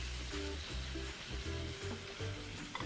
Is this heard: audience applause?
no